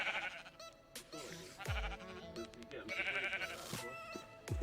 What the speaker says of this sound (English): We also have the goats with the auto feeders.